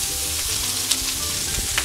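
Cooked, chopped pepitoria searing in hot oil, a steady close sizzle and crackle of frying with small pops throughout.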